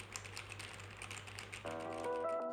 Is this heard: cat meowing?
no